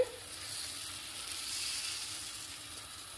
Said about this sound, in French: Voilà la première face qui cuit.